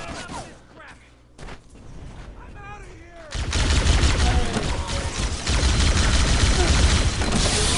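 Sustained gunfire in Halo: Combat Evolved, first-person shooting that builds from sparse game sounds into a loud, continuous barrage, with talking voices mixed underneath.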